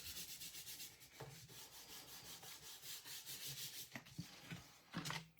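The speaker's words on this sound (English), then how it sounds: "So now I'm going to turn that over and give it a good rub." A glued paper craft piece is rubbed firmly by hand, giving a soft, continuous scratchy friction close by, with a few sharper scrapes and brief pauses toward the end.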